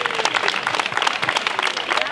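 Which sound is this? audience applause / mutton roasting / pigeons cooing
audience applause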